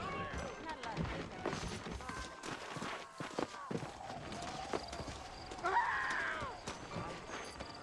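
Horse hooves clip-clop at a steady walking rhythm under voices talking, with a horse whinnying briefly midway, in the video game Red Dead Redemption.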